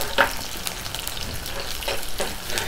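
Long-sliced onions sizzle and crackle in a hot pan for fenugreek gravy, with occasional stirring scrapes; a steady, moderately quiet frying hiss.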